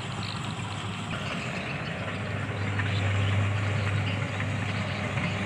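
A Kubota DC70 combine harvester engine drones steadily during a rice harvest, a loud low hum with a strong low tone that swells slightly midway, continuous and close with no talk.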